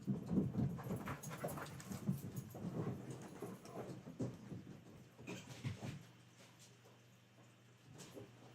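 Pups moving about and panting nearby, quick breathy huffs and scuffling over several seconds that fade to quiet near the end.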